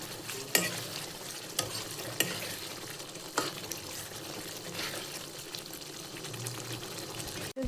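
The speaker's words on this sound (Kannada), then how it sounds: "ಕುದಿ ಬರಬೇಕು ಅಲ್ಲಿವರೆಗೂ ಮಿಕ್ಸ್ ಮಾಡಿ ಬೇಯಿಸಿ." Capsicum paneer chicken masala is stirred as it cooks toward a boil, a soft bubbling sizzle broken by a handful of spoon knocks against the pot.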